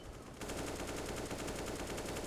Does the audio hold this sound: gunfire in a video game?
yes